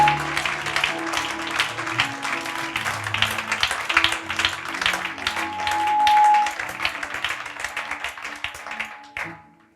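Congregation at a Sunday church service clapping and applauding in praise, a dense sustained patter of many hands with music playing underneath, fading out near the end.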